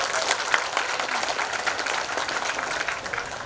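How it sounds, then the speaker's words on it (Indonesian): Graduation audience at an Indonesian high school, SMAN 3 Bandung, clapping steadily in a large hall, a dense even wash of many hands that holds for the whole stretch without a voice on top. "Tepuk tangan untuk Indonesia."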